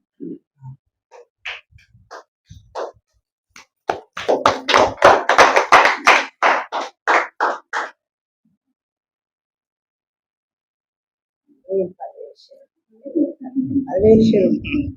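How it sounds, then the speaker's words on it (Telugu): People at a district office gathering of a Rajaka association in Bhadradri clap in turn, a run of sharp, close, evenly spaced claps and a few scattered taps, followed by silence and then voices talking. "అందరు తిన్నాక క్లాప్స్ కొట్టండి వరుసగా"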